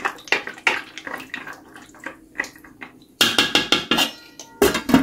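Water is poured into a pot of pasta in choppy splashing bursts, with a louder sustained pour near the end and a few clinks of the pot.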